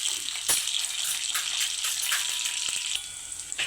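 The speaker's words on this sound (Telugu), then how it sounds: "మనకు ఉల్లిపాయ ముక్కలు ఫ్రై అవుతున్నాయి" Onion pieces fry in hot oil in a home kitchen, giving a steady bright sizzle and crackle with small pops, close and moderately loud, without speech.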